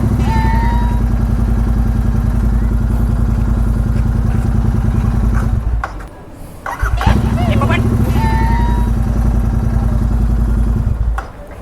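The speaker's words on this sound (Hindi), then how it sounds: "अभी एक बार अगर मैं स्टार्ट करके देखूं तो स्टार्ट भी हो रही है।" Royal Enfield Super Meteor 650 with a self-start fault after 7500 km, heard at a workshop: a loud, steady close idle that cuts out briefly and then restarts and settles back into a steady idle, with a voice talking faintly over it.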